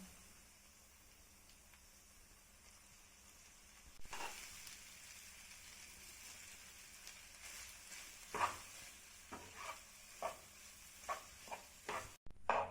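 Cooked rice stirred into fried tomatoes in oily pan for tomato rice, a quiet sizzle that rises once the rice goes in, then spaced spatula scrapes and knocks, close by with no voices.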